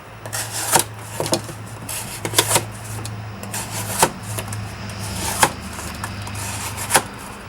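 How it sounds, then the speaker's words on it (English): Repeated scraping, rasping slices of a tanto-blade knife drawn through cardboard, several sharp strokes over a steady low background hum, close up. "Anyway, it's cutting cardboard really well."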